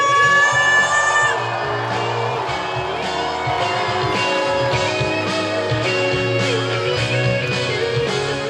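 A crowd at an outdoor garden festival concert in Cheongju, screaming and whooping loudly over amplified band music, with the shouting strongest at the start before the song carries on.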